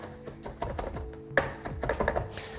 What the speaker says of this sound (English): Now we start to chop it continuously, flip it across, make a paste.